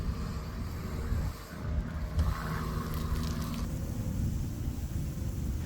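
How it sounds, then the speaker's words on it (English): Dusty, dirty safety goggles rinsed under running water, a steady close splashing and hiss of flowing water lasting several seconds with no voices. "let's go ahead and give them a quick rinse"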